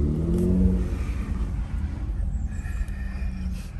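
A Jeep Gladiator with its roof off drives along a muddy trail in a nature preserve, its engine a steady close rumble with low road and wind noise that holds throughout.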